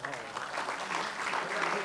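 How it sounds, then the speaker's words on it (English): Steady, dense applause fills the hall at the Best Change Interventions of Asia 2013 awards ceremony, a crowd clapping continuously at moderate volume with voices mixed in. "Round of applause for the winners of the Best Change Interventions of Asia"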